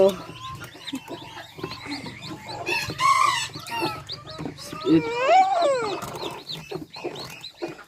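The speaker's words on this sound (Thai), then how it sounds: "อันนี้เป็นไก่แจ่เนาะ" Bantam chickens cluck and squawk in a farmyard in a loud, busy jumble, with a rooster crowing among them and people talking over the birds.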